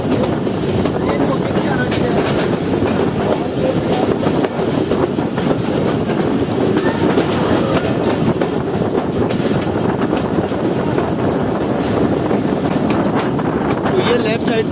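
Jaffer Express hauled by three RGE 20 locomotives rolling on rails toward Quetta, a steady loud rumble of the moving train with wind buffeting throughout.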